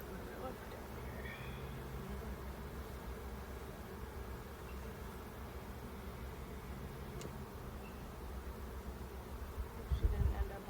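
A dense, steady hum of many honey bees buzzing in a hive during an inspection fills the space, with a brief louder rustle near the end.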